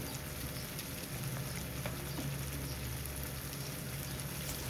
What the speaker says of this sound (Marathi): आता छान तेलामध्ये असं फ्राय होऊ द्यायचं